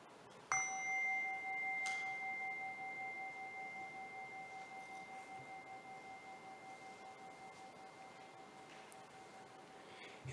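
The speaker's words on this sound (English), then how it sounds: "As I ring the bell, ask yourself, how does this resonate within me?" A single bell struck once during a Sunday church service, a clear bright ding that rings on with a long, slowly fading pulsing tone in a quiet room.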